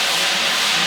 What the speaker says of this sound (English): just add a little bit of that pasta water right to